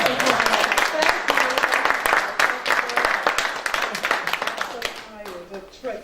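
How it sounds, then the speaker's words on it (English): Audience applause during a lecture on leadership, broad clapping throughout with people talking over it, fading toward the end. "I really want to applaud you"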